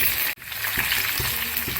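Loud, continuous sizzling and crackling of curry leaves and green chillies frying in hot oil for tomato upma, with a brief cut-out and a few soft clinks of a utensil.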